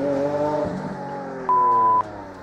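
Lamborghini Aventador LP 704 supercar with its engine running loud and close, a rough harmonic drone that settles, followed by a steady pure tone partway through.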